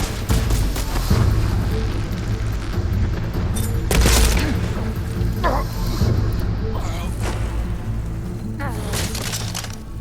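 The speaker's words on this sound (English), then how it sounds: "I love this cannon!" Heavy cannon booms and crashing impacts in Horizon Forbidden West: Burning Shores, repeated several times amid a dense, noisy battle din.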